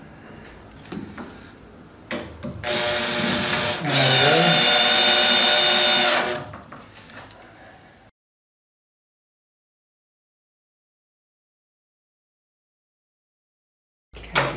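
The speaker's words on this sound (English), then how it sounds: "I can feel the Tnuts are being pulled into the wood. I wasn't sure if I was stripping something, but too hard with the drill" A power drill pulls T-nuts into wood while fitting a flip-up table saw extension, whirring in loud bursts that strain and bog down for a few seconds before stopping, followed by long silence.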